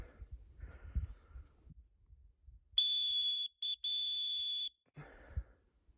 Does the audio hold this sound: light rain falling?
no